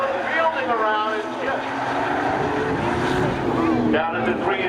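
Race cars roar nose to tail down the front stretch at Seekonk Speedway spectator drags, loud engine whine rising and falling beneath an excited announcer's commentary.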